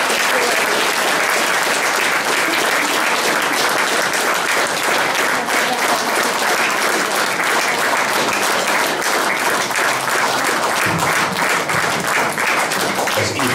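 Loud, sustained applause from an audience at the end of a talk, dense clapping that holds steady without pause.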